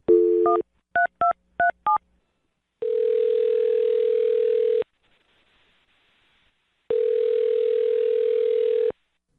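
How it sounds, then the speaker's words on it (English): A quick run of telephone keypad tones, then a steady dial tone that stops, pauses, and returns, loud and clear with no talking. "I'm going to dial his phone number right now and see if we can get him on the phone"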